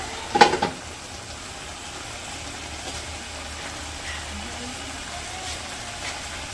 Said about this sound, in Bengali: এখন হচ্ছে ঝোল দিয়ে দিই।